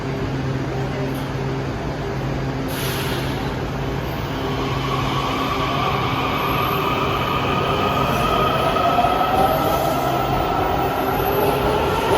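A Washington Metro Greenbelt train made up of Breda cars rolls past close by with a loud, sustained rumble and rising motor whine, steel wheels squealing faintly near the end.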